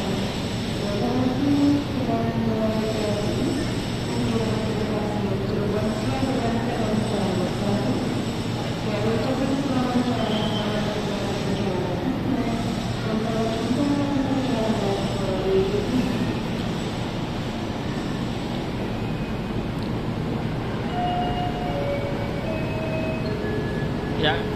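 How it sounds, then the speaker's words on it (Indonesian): A Ranggajati passenger train on the Cirebon–Jember line sits at Kertosono station, with a constant low rumble and air-conditioning hum throughout and voices talking underneath. "kereta api Ranggajati jurusan Cirebon Jember atau Jember Cirebon PP berhenti dulu di stasiun Kertosono"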